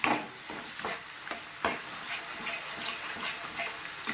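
Rohu fish in poppy seed paste sautéing in hot oil in a pan, a steady close sizzle with a few sharp stirring scrapes of a spatula scattered through, no talking.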